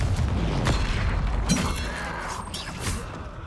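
A Confringo spell blasts in Hogwarts Legacy, giving several heavy booms and crackling bursts that roll through the scene with low rumbling thuds.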